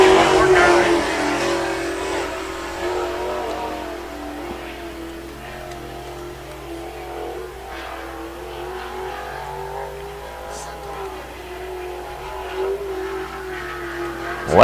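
Sprint car engine at the I-96 Michigan track during a Great Lakes Sprint Series qualifying attempt, a steady mid-distance drone that loudens at the start and swells again at the end, with a commentator talking over it throughout.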